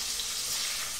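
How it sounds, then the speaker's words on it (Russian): Shrimp fry in a pan for a Spanish paella, a dense, even sizzle with steady crackle throughout and no voices. "Так, креветки я пожарил."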